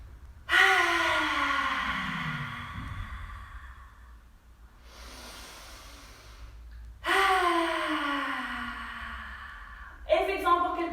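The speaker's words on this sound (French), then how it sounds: "on peut aussi faire la respiration du lion, donc sortir la langue" Lion's breath yoga exhalations with the tongue out: two long, forceful, breathy outward rushes separated by a quieter inhale, ending with the start of a third, close and alone.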